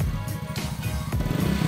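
A 2020 Honda Scoopy contest scooter with a standard engine and titanium intake runs close by, its engine and exhaust giving a steady, gritty drone with slight rises in revs.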